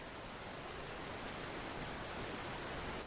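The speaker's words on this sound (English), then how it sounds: "Maybe I can get like a rain noise." Steady rain sound effect, a dense, even hiss of falling rain that holds at a constant level throughout, with no talk over it.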